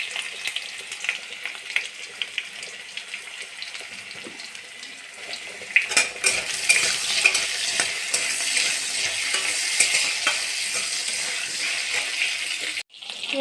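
Potatoes frying in oil in a pan while being stirred, soft scraping at first and then a loud, steady sizzle with spatula scrapes, ending in a brief cut.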